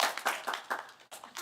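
A brief burst of audience applause at a Friday night Shabbat service, heard as a handful of separate claps in uneven rhythm, close and fairly quiet, lasting just over a second.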